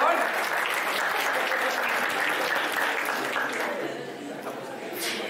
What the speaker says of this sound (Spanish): Un aplauso para el feliz ganador.